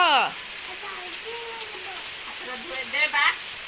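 Rain falls steadily during Cyclone Jawad, a soft, even hiss at low volume that runs throughout, with some faint chirping or whistling sounds over it.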